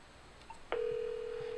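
An Avaya 9600 series IP desk phone places a call: a short keypress blip, then a steady electronic tone that starts abruptly and holds, quiet and close with no voices.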